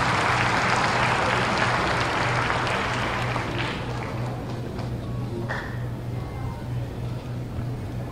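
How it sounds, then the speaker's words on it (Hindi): An audience at a book launch ceremony breaks into loud, dense applause to welcome a speaker. The clapping holds steady for several seconds, then eases slightly, with a few faint voices underneath. "जोरदार तालियों के साथ में एक बार स्वागत कीजिए।"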